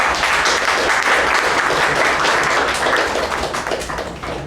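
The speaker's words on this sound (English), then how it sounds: "Please give a round of applause to the General Evaluator." Audience applause for the General Evaluator at a club meeting, dense steady clapping from a room of people, loud and continuous, tapering slightly at the end.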